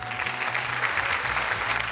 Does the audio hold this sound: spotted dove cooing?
no